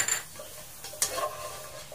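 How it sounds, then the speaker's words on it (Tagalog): Ginger and onion cooking in a hot pan without oil, with a faint sizzle under a couple of sharp utensil clicks and scrapes against the pan, close and quiet, with no talking. "Lulutuin lang po natin ng saglit guys. Sa so, pamagitan po ng uh, mainit na kawali."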